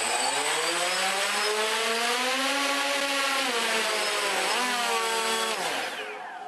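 A single motor and propeller on a DJI Phantom 1 quadcopter whine loudly and close up, with a propeller out of balance; the pitch wavers, dips and recovers, then drops away as the motor spins down at the end.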